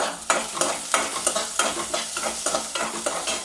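Onion sautés in a pan for beetroot chutney, giving a soft, continuous sizzle broken by repeated scraping stir strokes in an uneven rhythm.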